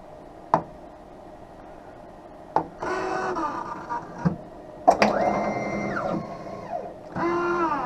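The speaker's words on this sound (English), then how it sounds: "the actual cutting wheel is this diamond crusted wheel that's going to act like a heavy grit sandpaper to grind away your lens material" Lens edger's diamond-crusted wheel grinding an eyeglass lens, several sharp clicks followed by whirring mechanical grinding passes that rise and fall in pitch, close and moderately loud.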